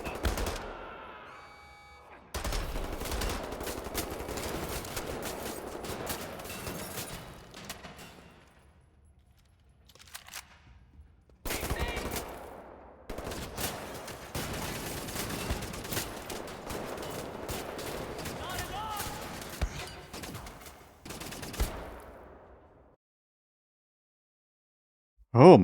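Pistol gunfire in the shooter game Wolfenstein: The New Order, a dense run of repeated shots and impacts in several bursts separated by brief pauses, loud and close.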